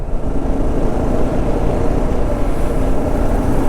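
Motorcycle riding along a road before dawn, one of a small group of bikes, with a steady loud engine drone and heavy wind rush filling the whole stretch without a break.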